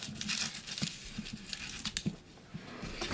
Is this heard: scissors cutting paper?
yes